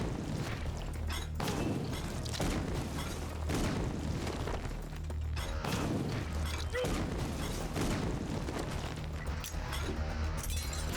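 Grenade blasts in Dead Rising Deluxe Remaster give several dull booms and thuds inside a dense, loud wash of game noise, with a voice talking over the top.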